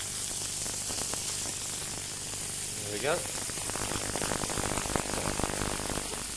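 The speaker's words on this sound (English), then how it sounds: "Okay, so just fry those again." Chicken pieces fry in a pan, giving a steady close hiss and sizzle. Crackling intensifies in the later seconds, and someone speaks briefly over it.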